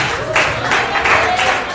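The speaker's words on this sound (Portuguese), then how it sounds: "Receba a serva de Deus com palmas bem alegres para Jesus" A church congregation claps in rough rhythmic bursts, loud and close, mixed with voices.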